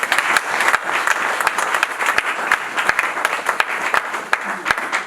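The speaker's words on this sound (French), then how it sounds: "On acclame pour la gloire de Dieu" Church congregation clapping and cheering in praise during a service, dense applause with sharp individual claps standing out, fairly close and loud, with a few voices mixed in.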